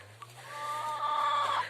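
Chickens cluck and squawk close by, a continuous run of calls rising toward the end over a steady low hum.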